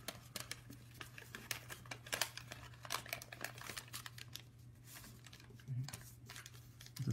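A large sheet of paper is lifted and folded back into an origami crane, giving soft crinkling and rustling taps scattered across the span, quiet and close beside a low steady hum.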